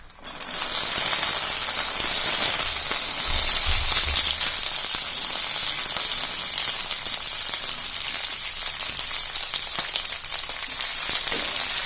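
Peas being fried for chiwda sizzle steadily and loudly in a pan, a dense continuous hiss with small crackles throughout that holds without pause.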